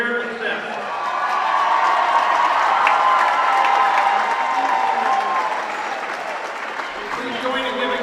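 A crowd at a girls' high school volleyball match applauds a player's 1,000th career assist, a broad swelling roar of clapping and cheering that builds, peaks loudly mid-way and slowly eases, with voices mixed into the noise.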